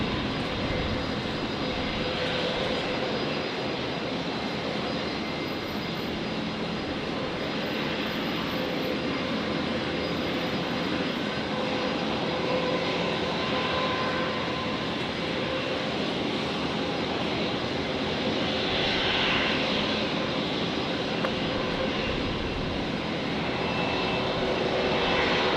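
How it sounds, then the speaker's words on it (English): An Air New Zealand Airbus A321neo taxis at Brisbane airport, giving a steady, fairly distant jet roar that holds for the whole stretch and swells slightly toward the end. "That sounded like the New Zealand 321 Neo we're looking for, Kev."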